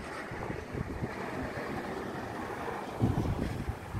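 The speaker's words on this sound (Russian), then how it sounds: "очень сильный ветер сегодня." Strong wind buffets the microphone of a Samsung Galaxy M21 phone outdoors, a steady, loud rumbling roar with a gust swelling near the end and no talking.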